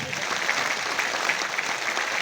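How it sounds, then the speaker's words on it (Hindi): Audience applause at a motivational success-story talk in India, a steady, dense wash of clapping from a crowd, holding at an even level throughout without a break. "कम है तो ताली तो बजाओ एक बार।"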